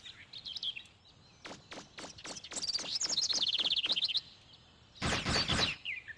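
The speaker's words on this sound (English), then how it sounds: "God, where are these birds?" Birds chirping in Mega Man Legends: a run of quick, bright tweets and trills close by, rising into a busy flurry, then a brief dense burst of chirps near the end, with no talking.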